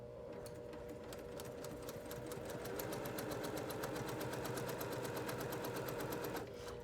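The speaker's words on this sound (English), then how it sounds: "So we're going to sew, turn on the machine." A sewing machine stitches quilt fabric in a fast, steady mechanical whir with rapid regular needle ticks, running continuously at close range before stopping abruptly at the end.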